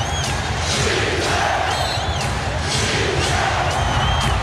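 A packed basketball arena crowd at Game 7 of the 2000 Western Conference Finals between the Lakers and Trail Blazers roars continuously, a loud sustained din with whoops and cheers throughout.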